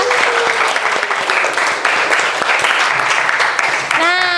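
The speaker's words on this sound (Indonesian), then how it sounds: "tepuk tangan untuk kita semua" Classroom applause from schoolchildren, a lively burst of many small hands clapping at close range, with voices and a rising call near the end.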